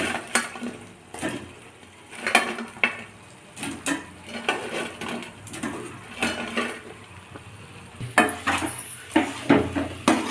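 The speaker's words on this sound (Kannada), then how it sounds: "ಈಗ ಮಸಾಲೆಗೆ ಫ್ರೈ ಮಾಡಿರೋ ಗೋಬಿನ ಆ್ಯಡ್ ಮಾಡ್ಕೊಳ್ಳೋಣ" Fried cauliflower pieces for gobi manchurian tipped into masala in a pan, with a series of clattering knocks and scrapes of utensil against cookware, close and irregular, no voices.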